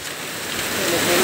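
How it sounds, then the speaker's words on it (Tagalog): Heavy, steady rain falls at night by the sea, a dense hiss that keeps up without a break and grows slightly louder across the short stretch. "siguro mga 30 minutes nang dire-diretso yung ulan"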